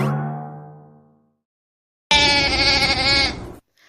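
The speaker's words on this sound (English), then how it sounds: "This is a sheep." A sheep on a farm bleats in one loud, wavering call lasting over a second, following a fading lower animal cry and a brief pause.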